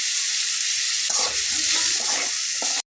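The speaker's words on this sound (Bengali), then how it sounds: "পেঁয়াজ কুচিটা আমি এখানে অ্যাড করে দিচ্ছি।" Chopped onion added to hot oil in a pan with turmeric fries with a dense, even sizzle and a few light stirring scrapes, ending in a brief cut to silence.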